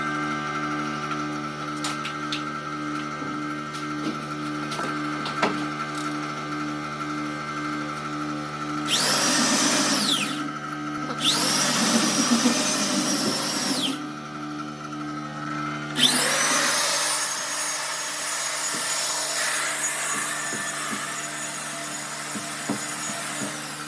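A line hone machines the main bores of a 1988 Ford 302 V8 engine block, running in three bursts of harsh, whirring abrasive grinding over a steady machine hum.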